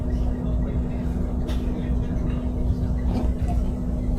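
A Tren Maya passenger train slowing into a station heard from inside the carriage, with a steady low rumble and a constant hum under occasional faint clatter.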